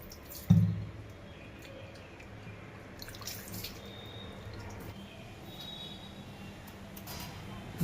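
Boiled papaya is rinsed with water in a kitchen: a faint trickle and drips, with one louder splash near the start, then a quiet, steady wash of running water.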